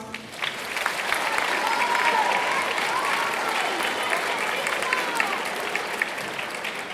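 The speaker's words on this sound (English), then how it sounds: "Please give them a round of applause." Sustained applause from an audience at a school academic awards ceremony, a broad, steady wash of many clapping hands that holds for several seconds at moderate loudness, with some voices murmuring in the crowd.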